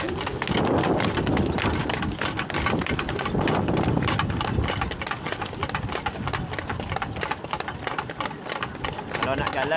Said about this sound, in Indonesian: Menggunakan kereta kuda ya.